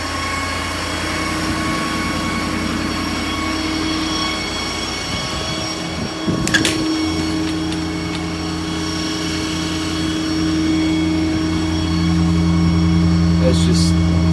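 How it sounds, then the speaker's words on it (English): A 2011 Ford F550 6.7 diesel mechanic's crane truck idles with a steady hum, then its PTO engages with a brief metallic clunk midway, after which the engine drone continues and rises slightly. "You can hear the PTO cut on."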